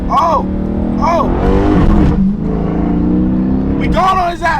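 A car pulls out and accelerates on the street, its engine note rising in several surges with loud rumble close by, heard from inside a Dodge Charger Scat Pack 392 under excited talk.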